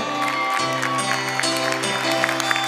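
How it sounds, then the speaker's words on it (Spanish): Audience applause rises at a live concert in an auditorium, a steady dense wash of clapping with a sustained musical tone ringing underneath, loud and continuous throughout. "Fuerte los aplausos"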